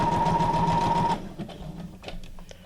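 A sewing machine stitches guest-check journal cards for a junk journal, running steadily and loudly for about a second before stopping, followed by faint handling noises.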